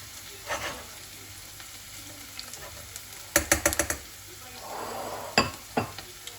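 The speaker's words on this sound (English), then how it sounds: "I'm going to add the liver with the onion so that they cook together" Liver and onion cook together in a pan in a home kitchen, with a steady sizzle underneath and bursts of clattering as a utensil scrapes and stirs against the pan, loud and close, with no speech.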